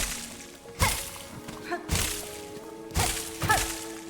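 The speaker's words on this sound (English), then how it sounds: "Oh, I think I'm technically hitting the maggots in the water." Strikes in Hollow Knight: Silksong land on maggots in water, giving three sharp whooshing, splashy thwacks about a second apart, each followed by softer watery blips, over a faint steady game ambience.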